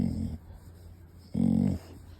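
A strongly allergic dog whimpers close by in two short, nasal whining bursts separated by a quiet gap.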